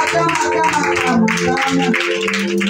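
A church congregation at a Sunday worship service claps and cheers, the applause steady and fairly loud alongside voices and music throughout.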